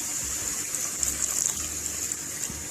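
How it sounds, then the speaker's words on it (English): Milk pours steadily into a cooking pan for an Indian sweet, a continuous close splashing gush with no talking. "next we're going to add in milk"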